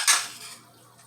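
Water hits a hot pan of sautéing beef, giving a short bright hiss that bursts up and then fades away within about a second.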